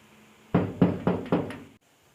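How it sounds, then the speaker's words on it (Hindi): A knock on a wooden door in a bedtime story about birds, five firm close raps in a quick even rhythm, then silence. "दरवाजे पे एक दस्तक होती है"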